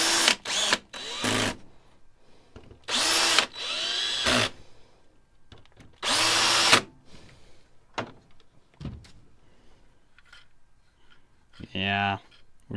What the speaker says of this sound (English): I'm going to run the screws down just to see how this looks